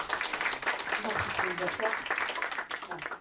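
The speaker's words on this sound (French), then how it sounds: "On peut applaudir" Audience applause at a French-language interview event on diaspora investment in Africa, steady dense clapping across the clip with talk audible over it.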